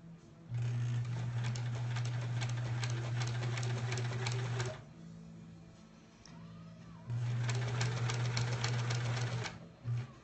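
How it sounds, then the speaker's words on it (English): A sewing machine stitches quilt block rows together, running in two long steady bursts of humming, rapid stitching with a short pause between them. "we'll sew these three rows together and press them"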